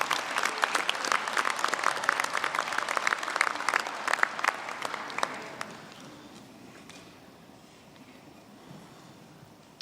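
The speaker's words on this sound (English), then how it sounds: "Let us give our graduates who worked very hard a round of applause for their perseverance" A graduation ceremony audience applauds its graduates, a dense wash of many hands clapping loudly for about five seconds before fading away into a quiet hall.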